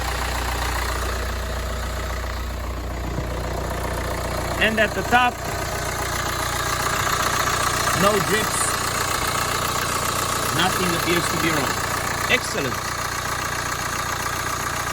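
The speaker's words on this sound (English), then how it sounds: "Now we're going to stop the engine" A 2014 Kia Sportage 2.0 CRDI diesel engine idles steadily with a continuous low hum throughout, while someone talks over it during a full service.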